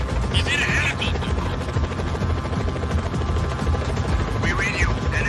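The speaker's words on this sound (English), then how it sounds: "He's in a helicopter." An enemy helicopter in the video game Just Cause 4 produces a loud, steady chopping rotor throb, with rapid rhythmic pulsing and a few brief sharper bursts layered on top.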